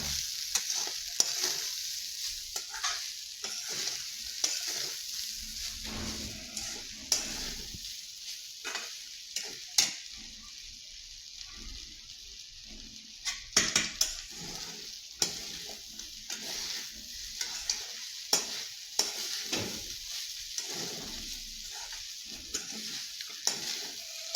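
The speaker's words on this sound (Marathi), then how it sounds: "जड हातानं खालीवरी खालीवरी हलवून घ्यायचे पोहे" Poha tossed up and down in a pan on a home stove gives a continuous soft sizzle with irregular scrapes and knocks of the stirring spoon, fairly quiet and close.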